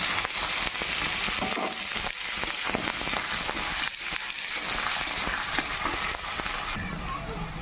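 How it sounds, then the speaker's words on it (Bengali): Sliced onions fry in leftover oil from frying potatoes, a dense, loud crackling sizzle that runs steadily throughout. "আলু ভাজা তেলগুলো আছে, এর মধ্যে পেঁয়াজগুলোকে ভেজে নেব"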